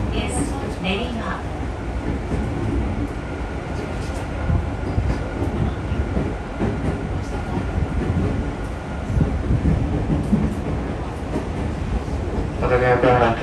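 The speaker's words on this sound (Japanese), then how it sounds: "This train is the Rapid Express bound for 小手差し on the Seibu Line." Inside a Tokyo Metro rapid express train bound for Kotesashi, a steady rumble and rail noise run throughout, with an onboard announcement voice heard over it.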